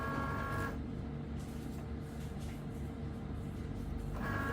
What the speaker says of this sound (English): the Cricut will be starting the engraving process